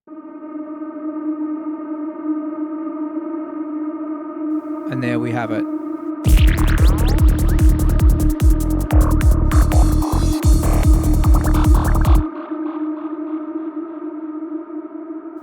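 Vocals given an eerie haunted-forest character by formant shifting form a steady, sustained droning tone throughout. A harsher, gritty buzzing layer swells in the middle section, and a voice briefly speaks near the end.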